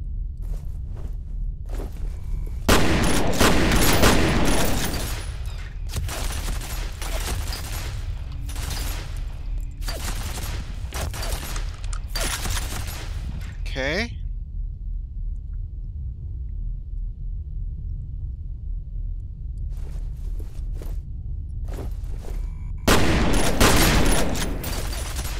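Gunfire in the shooter FEAR: repeated loud bursts of automatic fire with rumbling echoes, broken by a quieter stretch with footsteps before the shooting resumes.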